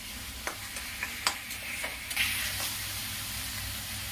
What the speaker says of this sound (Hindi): घी डालने से सब्जी का स्वाद बहुत अच्छा बढ़ जाता है। इसे मैं भून लेती हूँ।